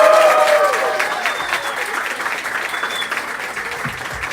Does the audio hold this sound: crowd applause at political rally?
yes